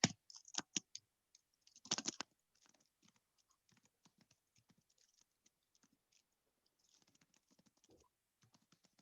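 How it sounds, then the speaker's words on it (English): Someone types on a computer keyboard, with a burst of quick, loud key clicks at the start. Sparser, fainter tapping follows in an irregular rhythm, close to the microphone, with no talking. "As I'm typing the English out,"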